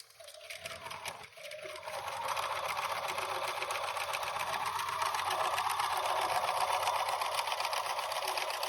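A sewing machine runs a zigzag stitch along a fabric edge to stop fraying, a steady, rapid mechanical whir that starts after a brief pause and holds close and continuous, with no talking.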